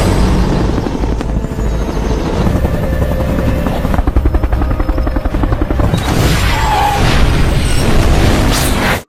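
Loud booming explosion blasts amid a heavy, continuous roar of helicopter rotors and chaotic action noise.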